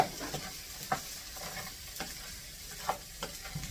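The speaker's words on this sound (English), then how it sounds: "we're going to get those fried in there while the spaghetti is still going" Half a bag of mixed vegetables frying and being stirred in a pan beside cooking spaghetti, a loud continuous sizzle punctuated by regular scraping stir strokes, close and without speech.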